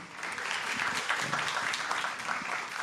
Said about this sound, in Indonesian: Boleh dong tepuk tangan sekali lagi